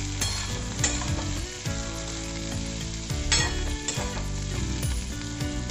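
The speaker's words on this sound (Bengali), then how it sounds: "এবার আমি ভালোভাবে নাড়াচাড়া করে নেব।" Spine gourd seasoned with salt and turmeric sizzles steadily in a pan while being stirred, with a constant close frying hiss and occasional scraping of the spoon, with no talking.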